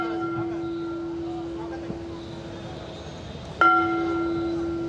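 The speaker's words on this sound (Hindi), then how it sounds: "ये घंटी बज जाए तब तक रुक जाऊं।" A single bell strikes loudly and close, ringing with a sustained, steady tone that swells sharply before fading, over faint background noise at a Hindi comedy-poetry stage event.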